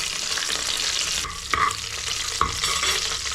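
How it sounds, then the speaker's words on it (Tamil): Mustard seeds, curry leaves and whole green chillies fry in hot oil for a river crab rasam, a steady, close sizzle with a couple of sharp pops and stirring scrapes breaking through. "காஞ்சிருச்சு கடுகு கொஞ்சம் போட்டுங்க இப்போ கொஞ்சோண்டு கருவேப்பிலை ரெண்டு பச்சை மிளகா அப்படியே போட்டுருங்க"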